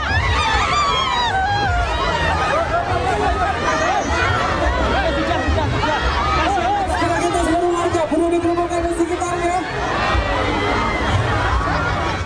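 Thousands of supporters crowd a street in Purwodadi, scrambling for t-shirts thrown by Joko Widodo and Lutfi: dense, constant babble of shouting voices and screams, loud and close, with no letup.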